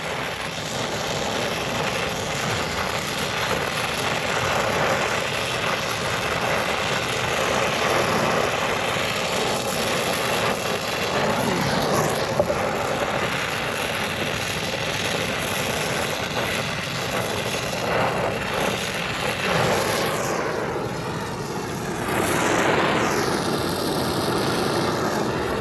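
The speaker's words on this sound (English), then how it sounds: "Want to keep that service valve cool while you're brazing." Brazing torch working at the service valve of an HVAC condenser during installation, a steady, loud roaring hiss that runs unbroken from start to finish without speech.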